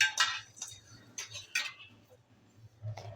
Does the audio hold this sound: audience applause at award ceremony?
no